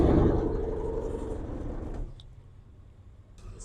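A repossessed car's engine idles nearby, a steady low rumble that starts loud and then drops to a quieter hum after a couple of seconds.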